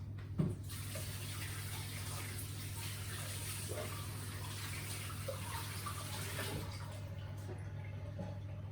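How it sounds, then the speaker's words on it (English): Tap water running steadily into a sink while hands are washed, a constant close splashing hiss with a low hum beneath it and small shifts in the flow. "So next thing is I'm going to wash my hands."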